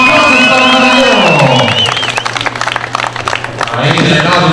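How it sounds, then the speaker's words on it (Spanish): A crowd at a rural boxing event in Santa María Tepantlali, Mixes, Oaxaca, claps and cheers for a boxer, with the applause swelling midway under an announcer's amplified voice. "¡Aplausos para el Jardinero!"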